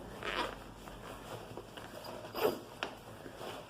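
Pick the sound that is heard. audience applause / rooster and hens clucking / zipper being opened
zipper being opened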